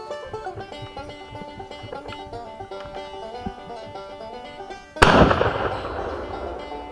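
A shotgun blast fired at a turkey during a hunt rings out once, loud and close, about five seconds in, with a ringing decay after it. Before the shot there is only quiet outdoor background.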